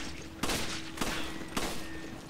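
Gunfire in the co-op video game Resident Evil 5 rings out as three evenly spaced loud shots over a constant humming game background.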